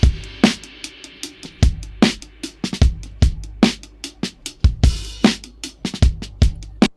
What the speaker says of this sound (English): what I'm using the Cymatics drum loop